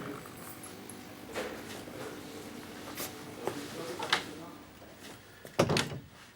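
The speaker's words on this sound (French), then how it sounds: "Et fermez la porte derrière vous." In an indoor scene from a French drama series, a door clicks and thumps shut among scattered soft knocks and shuffles, ending in a louder clatter over a quiet room background.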